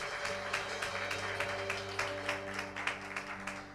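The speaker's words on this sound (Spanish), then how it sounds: "Le damos un aplauso al Señor." A church congregation claps during a Spanish-language service, moderately faint rhythmic clapping over a sustained organ or keyboard chord.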